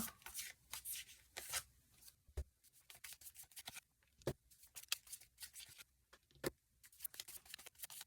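Tarot cards handled and shuffled at a reading table, giving a quiet run of soft papery flicks, taps and riffles in irregular bursts, with no talking.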